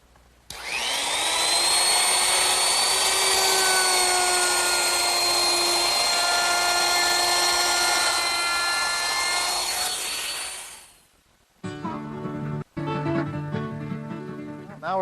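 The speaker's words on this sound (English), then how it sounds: "I want to use a 1/4 inch rounding over bit, and I want to round over the top edges of each leg" A router fitted with a 1/4 inch round-over bit shapes the top edges of wooden candle-stand legs, screaming loud and steady for about ten seconds before spinning down to quiet.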